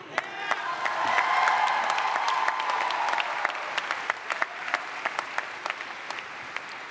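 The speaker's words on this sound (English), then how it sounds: "Let's give another round of applause for the ESU Commencement Band and Mr. Brian Hodge." A large graduation audience at a university commencement ceremony applauds in a sustained wash of clapping, with a cheer rising early and single sharp claps thinning out toward the end.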